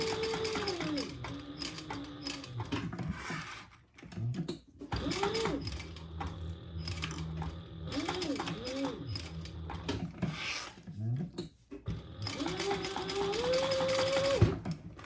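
A sewing machine stitches a tag with a D-ring onto fabric, running in several bursts of rapid mechanical chatter with short pauses between; a voice is faintly heard at moments.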